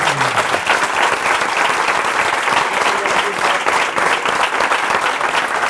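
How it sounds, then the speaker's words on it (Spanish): Strong, continuous applause from a gathered audience at an anthropology of death event, dense clapping holding at an even, loud level throughout. "os pedimos un fortísimo aplauso para Silvia y para Carlos."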